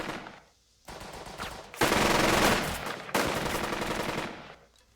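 A squad fires in Burden of Command, a World War II tactics video game: loud bursts of rifle and machine-gun fire in two long volleys, with sustained crackling gunfire and short quiet gaps between them.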